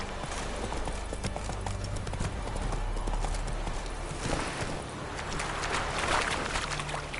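Roach, Geralt's horse in The Witcher 3, gallops with steady, rhythmic clip-clop hoofbeats over a soft outdoor ambience, continuous and fairly close.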